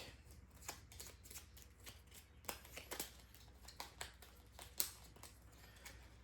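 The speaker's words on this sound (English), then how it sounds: "So we shuffle up his deck." A Starship Captains board game deck being shuffled over and over, a steady run of crisp riffling and flicking clicks with one sharper snap near the end.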